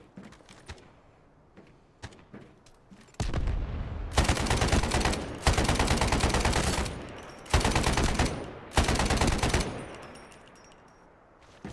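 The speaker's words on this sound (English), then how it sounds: "Getting shot by the sniper." Sniper and automatic gunfire in the shooter game Delta Force, several loud bursts of rapid shots in separate blocks, with a few sharp single cracks before them.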